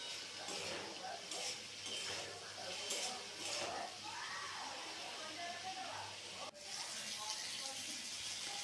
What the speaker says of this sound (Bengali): তো এটিকে আমি এখন ভালোভাবে ভাজবো।